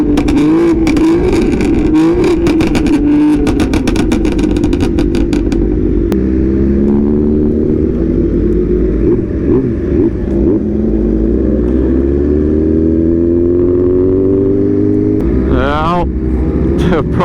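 Motorcycles, with a BMW among them, accelerate together on a large group street ride, with engines revving in rising, sweeping pitches that roar loudly and continuously close by.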